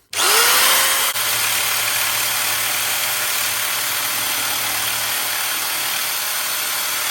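A Parkside electric metal nibbler whirs up to speed and then grinds steadily and loudly through thin sheet metal, a continuous harsh buzzing cut with no voices.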